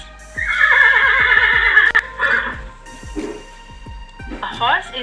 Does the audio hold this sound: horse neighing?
yes